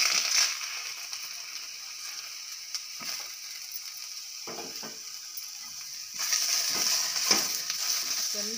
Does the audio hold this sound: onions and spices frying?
yes